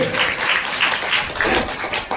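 Audience at a Pitar Mahotsav village festival performance clapping in quick rhythmic bursts, steady and fairly loud throughout.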